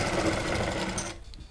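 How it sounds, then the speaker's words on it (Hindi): A sewing machine runs steadily while stitching a blouse, a dense continuous whir that cuts off sharply about two-thirds through, leaving a near-silent pause with faint rustling. "मैं इसे रखता हूँ यहाँ पर ऐसे और लगाता हूँ सिलाई"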